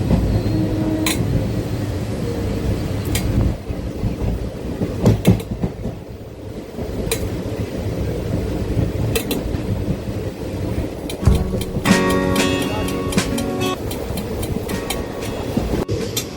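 A passenger train runs on the rails between Durgapur and Srirampur in Bengal, heard from on board: a loud, steady rumble with rhythmic clickety-clack and sharp metallic clanks over the joints.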